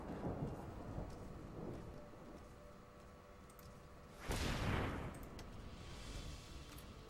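Lightning strike spell effect in the Magic The Gathering Arena video game: a sudden loud thunderous crack and rumble bursts in midway over a steady background of game music and ambience, then fades.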